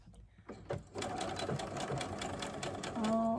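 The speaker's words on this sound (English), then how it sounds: "I'm going to go in about 5/8 of an inch and just sew up" A sewing machine stitches a seam about 5/8 inch in on a doll dress for an 18 inch doll, running steadily and close for a few seconds after a couple of short starts.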